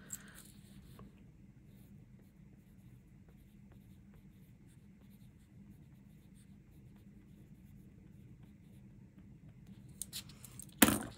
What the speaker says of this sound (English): Let me just write them on that.